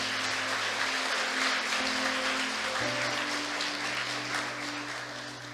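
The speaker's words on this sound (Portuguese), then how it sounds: "Você pode aplaudir a Ele nessa noite?" A church congregation applauds during an evening service, a steady wash of clapping with sustained organ or keyboard tones underneath, fading slightly toward the end.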